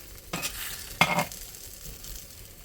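Spam, pancakes and eggs fry in cast iron pans, a steady soft sizzle with a couple of sharper bursts of stirring or scraping, no voices.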